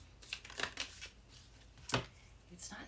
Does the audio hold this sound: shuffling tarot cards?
yes